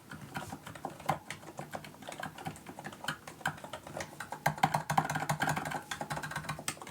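Typing on a Go60 split ergonomic keyboard fitted with Plum Blossoms switches and POM keycaps: a steady, close run of crisp key clacks with irregular rhythm, heard alone.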